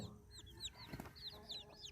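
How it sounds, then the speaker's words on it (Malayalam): Hens and roosters clucking and chirping in quick, overlapping bursts, fairly faint, with a soft hum in the background. "വെറൈറ്റി അമ്മ കോഴികൾ ഇവിടെ ഉണ്ട് അതുപോലെ പൂവന്മാരും നല്ല വെറൈറ്റി പൂവന്മാരുണ്ട്"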